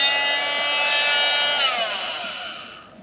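Oscillating multi-tool cutting through a spatula handle, a steady close high-pitched buzzing grind that holds evenly, then drops in pitch and fades out near the end.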